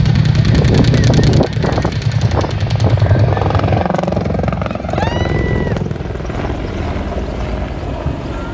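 Black Hawk military helicopters arrive with a loud, close rotor thump and whining engine drone that holds steady throughout, while voices talk over the noise.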